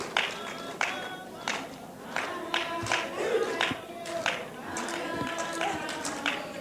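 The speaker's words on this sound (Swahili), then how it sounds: "Makofi kwa mama wakati anakuja" Audience at a women's leadership conference claps and cheers as a speaker arrives, a busy crowd sound with scattered sharp claps and voices throughout, fairly steady and moderately loud.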